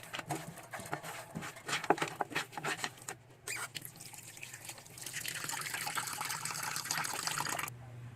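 A pork leg gets washed by hand under water: splashing, dripping and handling noises at first, then a steady stream of running water filling and pouring, close by.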